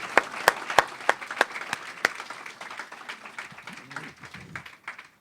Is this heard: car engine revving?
no